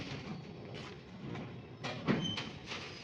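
An election special train pulls into a station, giving a faint, close rumble inside the carriage with a few soft clunks and rattles spaced through a short stretch and no voices.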